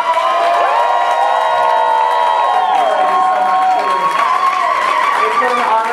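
Crowd at a drag show finale cheering, whooping and applauding, a loud, continuous wall of shouts and clapping with sustained tonal cries running throughout.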